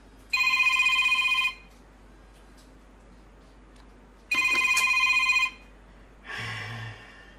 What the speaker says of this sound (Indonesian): Dan teleponku berbunyi sebentar.